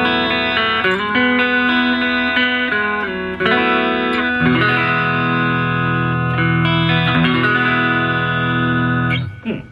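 An electric guitar played through a BOSS GT-1 Twin Reverb amp model into a Roland JC-120 return, clean with lush reverb, ringing chords and sustained notes fading into a spacious tail.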